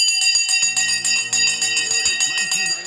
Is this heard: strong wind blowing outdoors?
no